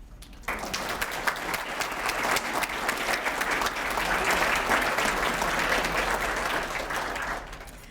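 A room full of people gives a sustained round of applause for award nominees at a leading women event, rising quickly and holding steady for several seconds before tapering off.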